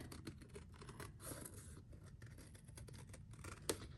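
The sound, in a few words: scissors cutting printed fabric pieces together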